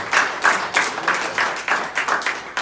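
Church congregation clapping together in a steady, quick rhythm, about three claps per second, close and lively.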